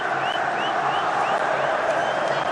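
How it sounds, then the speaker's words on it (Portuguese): Sport Recife fans celebrating in the stadium at Ilha do Retiro after a 2-2 draw with Flamengo, a steady, broad roar of crowd noise and applause heard from a distance, unbroken throughout. "E a torcida do Sport vai comemorando esse pontinho"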